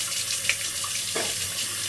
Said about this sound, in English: I always rinse my razor under hot water.